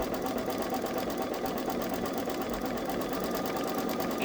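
A Babylock Solaris 3 (Vision) embroidery machine stitches a design in the hoop, producing a continuous, even mechanical hum and rapid needle chatter, close and steady the whole time.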